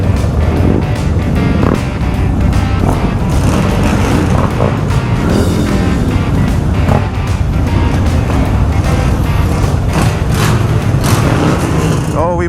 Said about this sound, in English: We must rev. It's Bike Week, baby, gotta rev.